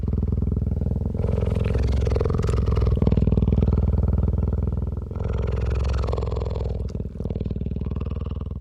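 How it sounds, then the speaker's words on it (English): A deep, continuous rumbling purr, very close and loud, pulsing steadily with short breaks between long breaths. "I recorded this remarkable close-up purring sound"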